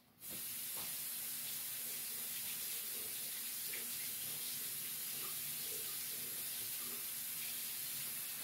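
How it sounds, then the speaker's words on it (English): Water runs steadily from a tap as paint-covered gloves are rinsed, a constant close hiss that starts abruptly and continues alone without speech. "I'm going to go rinse my gloves"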